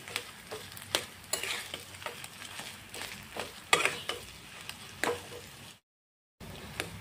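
A spatula stirring a spiced potato mixture with chili, turmeric and cumin powders in a hot pan, rhythmic scraping clicks over soft sizzling, then a brief silence.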